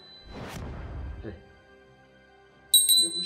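Small handheld bell in a dark room during a spooky challenge, giving a brief bright high ring near the end after a stretch of muffled rustling and voices.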